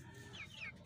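Two short chicken clucks, faint and slightly rising in pitch, over a low steady background hum.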